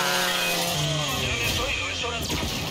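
A chainsaw weapon in the video game Gears of War 5 revs with a loud, buzzing engine whine that shifts in pitch, close and continuous over game noise.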